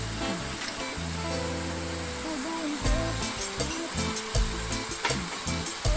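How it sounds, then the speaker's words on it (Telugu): Ginger paste frying in a pan for a prawn curry, a steady broadband sizzle that runs throughout with some clatter and stirring mixed in. "అల్లం పచ్చి రసం పోయేదాకా ఫ్రై చేసుకోవాలి."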